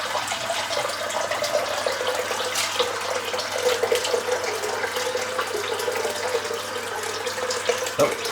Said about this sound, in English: I'm just gonna empty this sink out.